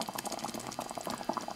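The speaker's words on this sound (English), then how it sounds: "Now while I'm heating here on the stove, I've added 1/3 of a stick of butter, and that's melting now." Pumpkin pie filling with melting butter bubbles in a pot on a stovetop, a dense, close crackle of small popping bubbles with no talking.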